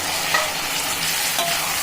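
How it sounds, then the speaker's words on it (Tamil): Tomatoes hiss and sizzle steadily in a hot pan while being stirred, a loud continuous frying sound with no voices. "தக்காளியும் நல்லா வதங்கட்டும் குழையிற அளவுக்கு"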